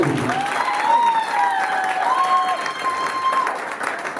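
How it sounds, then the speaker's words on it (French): Applause for the bride at a wedding reception, a steady wash of many hands clapping, with a sustained high, wavering vocal cry or ululation rising above the crowd. "acclamez très pour la sœur Sarah"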